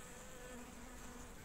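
Honeybees humming steadily at an opened spring hive, a dense continuous drone with no talk over it, close and even throughout.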